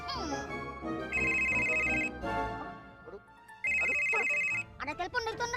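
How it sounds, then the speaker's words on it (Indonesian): A telephone rings in two loud, steady electronic bursts, each lasting about a second, with people talking before, between and after the rings. "Ada telepon dari Tuan Raja."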